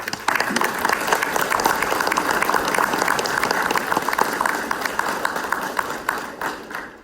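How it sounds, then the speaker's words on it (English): Full, crowded applause for the families of fire department dive school graduates, steady and loud for several seconds before tapering off near the end. "So I just wanted to give their families a round of applause."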